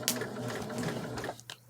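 Domestic sewing machine stitching a ribbon square for a crazy quilt, a short close burst of rapid mechanical needle chatter that slows and stops near the end.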